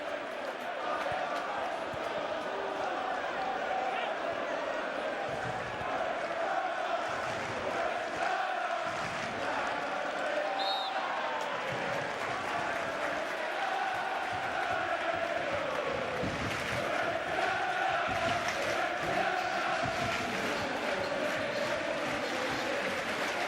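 Football stadium crowd at an AFC Bournemouth home match applauding and cheering for a standout player: a dense, continuous roar of clapping and voices, steady and broad, with a commentator talking over it.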